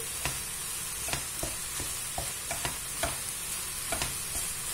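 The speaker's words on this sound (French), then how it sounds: "Juste le temps de tout mélanger." A spoon stirring vermicelli with vegetables and meat in a hot pan, regular scraping strokes about twice a second over a constant low sizzle.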